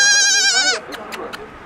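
A Rove breed goat on a goat farm in the Bouches-du-Rhône gives one loud, close, drawn-out bleat, followed by a few faint soft ticks.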